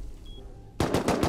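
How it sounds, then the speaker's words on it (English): Gunfire in the Rust video game bursts in after a quiet stretch, a rapid run of loud close shots repeating in quick rhythm to the end. "They're shooting it already."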